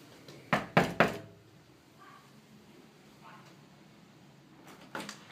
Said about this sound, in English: So we're going to knock on the door and see how we do.